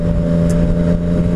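A Yamaha MT-09 Tracer motorcycle engine revs loud and near in a brief, even roar, with no voices present.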